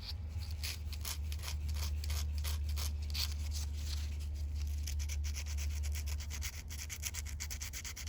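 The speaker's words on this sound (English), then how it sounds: "I'm just gonna wet sand it. So I got the sandpaper wet. And we're just gonna lightly sand." Sandpaper wet sanding a die-cast Hot Wheels toy car to remove casting lines, heard as a close, steady rhythm of quick back-and-forth rubbing strokes under a constant low hum.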